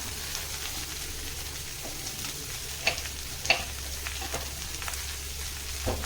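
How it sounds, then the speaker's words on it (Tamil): Cabbage, black urad dhal, tamarind and ginger are stirred and sautéed in a pan for a cabbage chutney, with a steady soft sizzle and a few scattered clinks and scrapes of stirring. "இப்போ இப்போ நம்ம இதை வதக்கலாம்"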